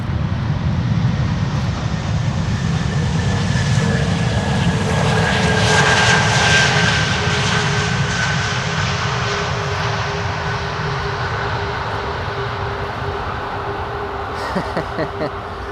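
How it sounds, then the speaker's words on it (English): An Airbus A340 airliner on landing approach at Schiphol Airport, its jet engines producing a loud, steady roar with a whining tone that swells and slowly fades over about fifteen seconds. "First, the A340."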